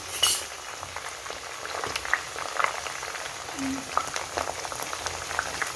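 Homemade hair oil with ajwain seeds heats and bubbles steadily in a pan, with scattered metal spoon clinks and scrapes from stirring, at close range.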